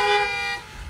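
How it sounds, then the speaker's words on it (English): Car horns honk together in a steady, loud blare during a Mother's Day church service gathering, then fade into low rumbling ambience. "Honk your horn."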